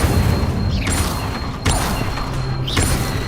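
Incendio fire spell cast in the video game Hogwarts Legacy, a loud burst and whoosh repeated about three times over dense game background sound, with no speech.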